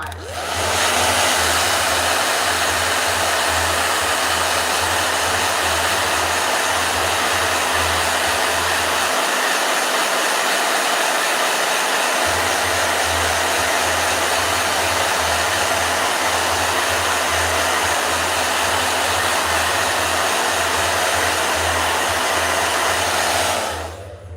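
A blow dryer runs loudly and steadily, cutting out for a few seconds midway before starting up again and roaring on to the end.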